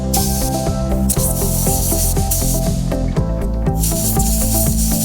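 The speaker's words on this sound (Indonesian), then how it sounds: "Kemudian semprotkan dengan kompresor angin untuk membersihkan sisa-sisa kotoran yang menempel" Compressed air hissing loudly as an air compressor sprays clean the carburetor parts of an outboard motor, a continuous harsh close-up hiss with bursts of varying pressure over a steady tonal hum.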